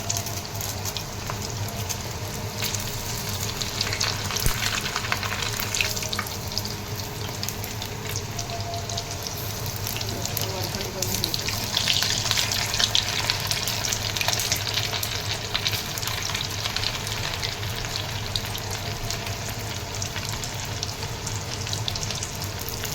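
Chicken lollipops deep-frying in oil over medium heat, a dense, even bubbling hiss that carries on steadily and close for over twenty seconds, with a slight swell partway through.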